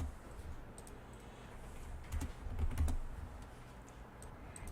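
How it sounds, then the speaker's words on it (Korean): Computer keyboard keys are pressed in a quick cluster of close, crisp clicks during a Ctrl+F shortcut, with a few isolated taps before and after against a quiet room. "그 다음에 컨트롤 F를 눌러서 같은 위치에 붙여넣기를 하도록 하겠습니다."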